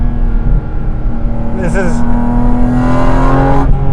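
Loud, deep flat-six intake roar from inside a Porsche GT4 RS Weissach with windows up under hard acceleration, a steady rising drone with a brief gear-shift dip partway through.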